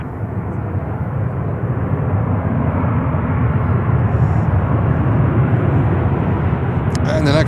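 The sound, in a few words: American Airlines airliner at Charlotte airport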